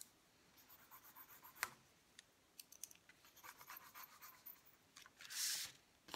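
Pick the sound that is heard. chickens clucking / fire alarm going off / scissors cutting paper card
scissors cutting paper card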